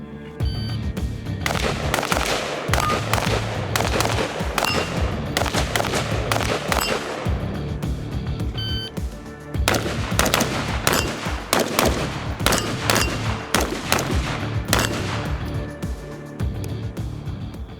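Rapid gunfire from a rifle with a Primary Arms SLx 1-6 LPVO scope during a fast target-transition drill, loud close shots in quick strings with brief pauses between bursts.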